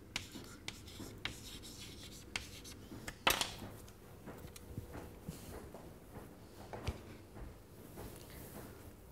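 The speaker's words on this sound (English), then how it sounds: "I'll also write Cassandra." Handwriting a word on paper with a pen or pencil, heard as quiet, close scratchy strokes with small taps and pauses between letters, faint overall and without speech.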